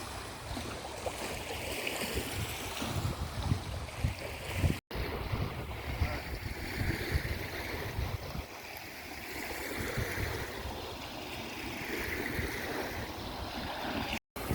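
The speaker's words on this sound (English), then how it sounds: "We're gonna end the video off with looking at the nice waves." Ocean waves wash steadily along a shore, a broad continuous surf roar mixed with gusting wind noise on the microphone, no voices.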